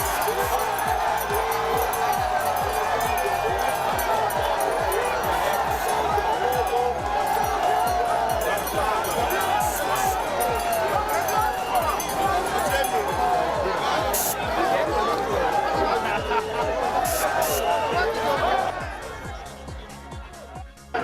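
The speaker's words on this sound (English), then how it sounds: "At the Imo River station, a crowd of enthusiasts had gathered to welcome the Vice President." A crowd of enthusiasts gathered at the Imo River railway station in Nigeria to welcome an arriving train, producing a continuous loud hubbub of chatter and cheering that fades toward the end.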